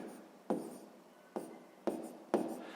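A pen scratches out a sixth-grade math solution in four quick, faint strokes, each starting sharply and trailing off, in a quiet room with no talking.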